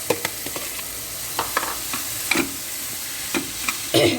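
Chickpeas and potatoes go into a pan of frying masala for chole with kulcha, a low sizzle broken by repeated scraping and stirring knocks of a spoon against the pan, louder toward the end.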